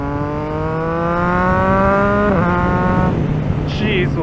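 A 2024 Yamaha MT-09 motorcycle engine revs hard under acceleration while riding, its pitch climbing steadily, then briefly dipping on a gear change and rising again, with wind roar behind it.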